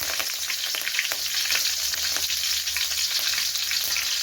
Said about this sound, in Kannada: ಎಣ್ಣೆ ಬಿಸಿಯಾಗಿದೆ. ಸ್ವಲ್ಪ ಸಾಸಿವೆ, ಒಂದು ಹಸಿರು ಮೆಣಸಿನ್ಕಾಯಿ, ಸ್ವಲ್ಪ ಕರಿಬೇವು,